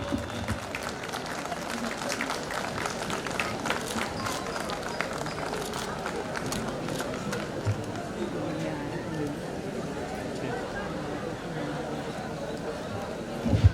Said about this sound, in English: Audience, can we have a huge round of applause,